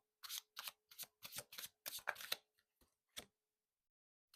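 Tarot cards being shuffled up close, a series of quick crisp riffling bursts in an even rhythm, then a few softer taps as the deck settles, in a quiet room.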